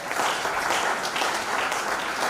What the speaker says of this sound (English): It's a hard clap for my governor.